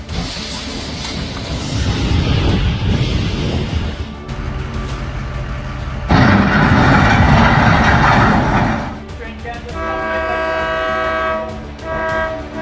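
Loud, continuous rumble and roar of a southbound train at low speed striking a truck hauling luxury cars, including an Audi, with a train horn sounding and rattling rail noise; tonal horn blasts stand out near the end.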